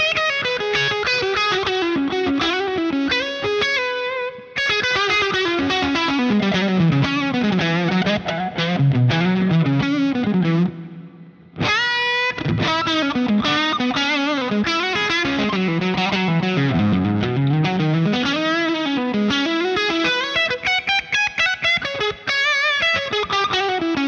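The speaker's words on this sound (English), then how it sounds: "I'm going to actually add on a little bit of reverb again, the same one as before, and try some lead stuff." Distorted electric guitar plays a lead line through Two Notes cab simulation with reverb, loud and continuous with bends and fast runs, a brief pause near the middle, no talking.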